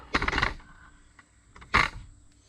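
Two short rattling, clattering bursts from a tripod being handled during an SRT-4 engine build, the first longer and the second sharper, quiet and close with a gap between them and no talking.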